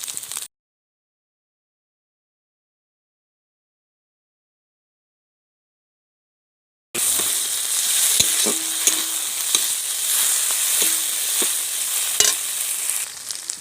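Garlic paste and tomato sauce frying in a pan for a crab curry, a loud continuous sizzle with occasional scraping knocks of a spoon stirring, after several seconds of silence.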